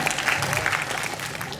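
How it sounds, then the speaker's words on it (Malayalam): An audience at a film's launch pooja ceremony gives a short burst of dense clapping, loud and continuous throughout. "എല്ലാവർക്കും നല്ലൊരു ക്ലാപ്പ് കൊടുക്കാം സാറിന്"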